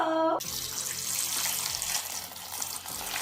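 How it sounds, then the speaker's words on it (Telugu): Running tap water washes jamun fruits in a sink, a close, steady hiss of flowing water that continues throughout after a brief musical tone at the start. "ముందు వాటర్ తోటి శుభ్రంగా క్లీన్ చేసి కడిగేసి ఒక ప్లేట్లో తీసుకున్నాం."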